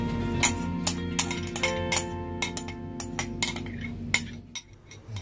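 Crushed pepper, garlic and vinegar stirred together in a bowl with a utensil, giving repeated close clinks and scrapes against the bowl in a steady irregular rhythm, with no talking.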